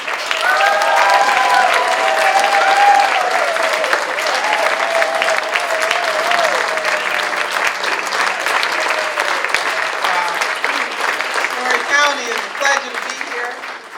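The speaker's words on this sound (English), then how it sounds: "let's give a really big round of applause" Loud, sustained clapping from a large crowd at a political party event greeting a keynote speaker fills the space, with cheers and whoops rising above it before it begins to thin out.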